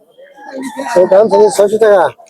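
At a duck and chicken market, a large rooster lets out one loud, close crow lasting about a second and a half, rising and then breaking off.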